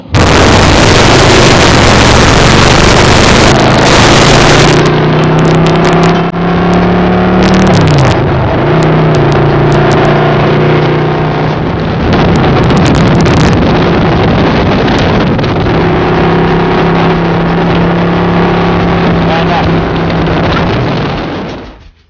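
Loud, continuous engine roar from a convoy of nine motorcycles passing close by, with steady droning and rising revs, buffeted by wind noise.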